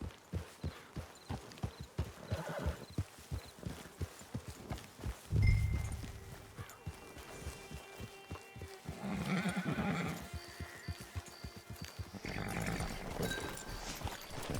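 A horse whinnies loudly in Red Dead Redemption 2, with steady clip-clop hoofbeats walking along before and after, plus a few softer snorts.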